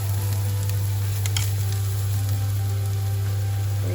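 Garlic frying in a pan for a Vietnamese beef stir-fry, a steady close sizzle with faint crackles and light stirring scrapes over a constant low hum.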